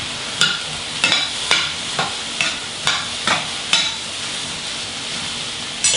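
Eggplant frying in olive oil for caponata, with a steady sizzle under regular, close scraping strokes of a spoon stirring the pan, roughly two per second.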